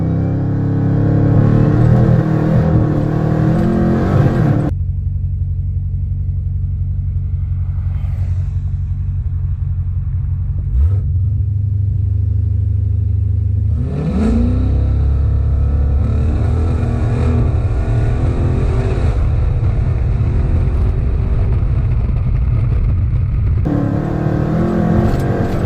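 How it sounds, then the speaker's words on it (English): A Dodge Hellcat held on the brake, then launched at full throttle under launch control: a loud, deep engine roar that drops back, then rises again into a surging, sustained rumble. "press the brake and quickly apply full throttle. Now it's ready to launch. Let it go."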